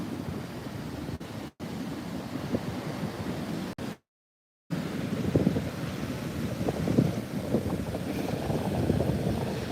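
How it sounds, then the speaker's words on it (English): Ocean waves wash over rocks at Hastings Point during a stormy low-pressure system, a rough, continuous roar of surf buffeted by strong wind noise against the microphone, loud and close, with brief dropouts and no talking. "You can see these waves here washing over the rocks very close to me."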